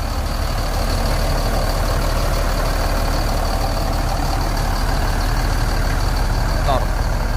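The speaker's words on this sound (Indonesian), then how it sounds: "dapur pacunya ya." A Mutiara Hitam bus idles at a terminal with a steady, low, droning engine rumble, close by, while someone speaks over it.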